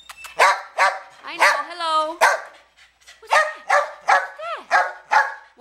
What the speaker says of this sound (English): I'm not going to take a very long video because you got a barker here